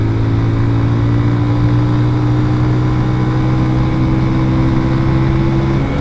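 A 150cc motorcycle engine cruising in fourth gear, a loud, steady drone with constant pitch and rushing wind noise throughout, heard up close from the rider's position.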